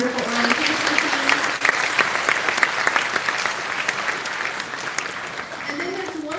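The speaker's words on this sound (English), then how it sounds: "one more round of applause for our wonderful orientation team" An audience of new students at an NC State University welcome event applauds steadily for the whole stretch, a dense, even wash of clapping with a faint voice underneath.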